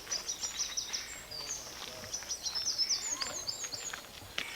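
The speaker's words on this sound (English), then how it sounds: "Can you hear the birds?" Small birds chirping and tweeting outdoors at Hellens Bay, Greypoint, County Down, a steady scatter of quick high calls at moderate distance on a calm day, with no voices.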